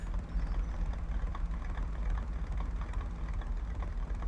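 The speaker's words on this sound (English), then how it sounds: "the engine sounds a little bit clattery." A clattery truck engine in the SnowRunner off-road driving game rumbles steadily with a low, rough, continuous drone and no voices over it.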